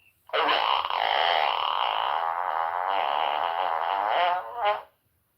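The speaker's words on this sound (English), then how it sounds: "I bought a fart button for Clubhouse." A novelty fart button plays a long, loud, buzzy fart sound effect that holds steady for about four seconds, ends in a short rising sputter and then stops in silence.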